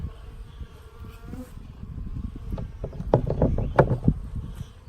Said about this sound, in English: So there's only a few bees up in my second box here.